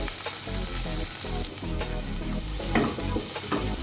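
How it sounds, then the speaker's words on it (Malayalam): Onions frying in a pan for a prawn and jackfruit dish, giving a steady, close sizzle with light crackling throughout and no talking. "അപ്പോൾ ഞാൻ കോരി മാറ്റിയിട്ട് ഇതിൽ സവാള ഇട്ട്"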